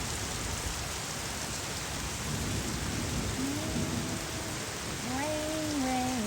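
Steady rain falls during a thunderstorm as a dense, even hiss, with faint voices or tones rising briefly near the end.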